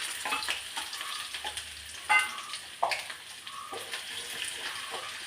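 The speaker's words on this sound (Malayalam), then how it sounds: "എണ്ണ ചൂടാൻ ഇച്ചിരി കടുക് ഇടട്ടെ." Mustard seeds and fenugreek fry in hot sesame oil for pickle. Faint, scattered crackles and small pops rise over a soft sizzle, with a couple of sharper pops standing out.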